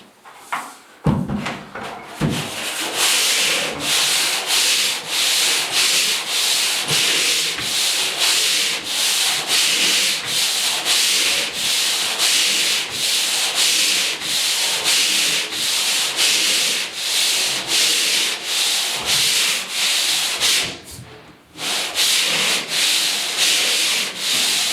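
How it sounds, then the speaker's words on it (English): Drywall on a basement bedroom ceiling is sanded by hand, a loud continuous rasping scrape in rapid back-and-forth strokes that continues steadily, with one brief pause near the end. "Just harder to sand."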